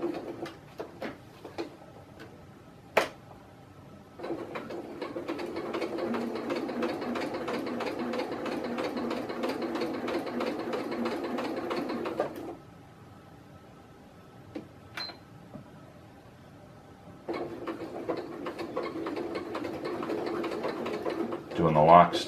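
A sewing machine with a regular needle and cotton thread lock stitches a shoulder strap for a folding table. Two long runs of rapid, steady mechanical stitching come near and loud, separated by quieter pauses with soft clicks.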